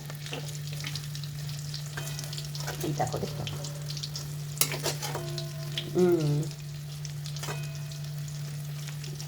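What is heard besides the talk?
pakora frying on low flame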